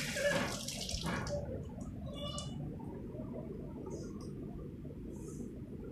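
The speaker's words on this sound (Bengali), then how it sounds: "তোমরা দেখলে মাছগুলো নিয়েছি, অ্যাকোয়ারিয়ামে ছাড়লাম" Water and fish are tipped into a home aquarium, a splashing gush at the start that settles into a steady watery rush and trickle, with faint bubbling toward the end.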